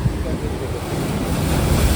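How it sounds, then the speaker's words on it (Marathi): Sea waves surging at the Bamanghal natural water spout, a heavy, constant roar of churning water close by, with wind noise pressing on the microphone. "समोरच आपण आता पाहतोय जलस्तंभ आणि जलाविष्कार"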